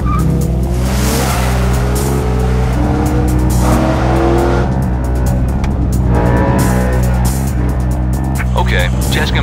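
An M3 sedan on a test-drive run, its engine droning steadily and loud up close, with revs rising and falling and faint tire noise, while a voice talks over it.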